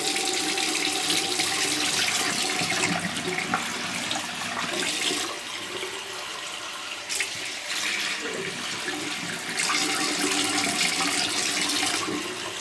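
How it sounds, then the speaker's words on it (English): Warm water runs steadily from a tap while a new tattoo is rinsed, a loud continuous splashing rush with slight shifts in texture throughout and no voices. "So get warm water, I rinse off the tattoo."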